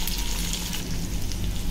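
Green chillies and chopped ginger sizzle and fry steadily in a hot pan with curry leaves, a dense continuous crackle close up with no voices.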